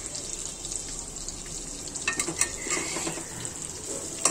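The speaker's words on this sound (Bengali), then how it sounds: "অল্প আঁচ থাকাতে ভালোই হচ্ছে, কারণ এগুলো আস্তে আস্তে ভিতর থেকে সিদ্ধ হয়ে আসবে।" Soy-sauce-marinated meat frying slowly over low heat in a pan, a steady sizzle with occasional crackles and stirring scrapes, close and moderately loud.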